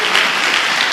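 Church congregation bursts into dense, loud applause, a brief close burst of many hands clapping together.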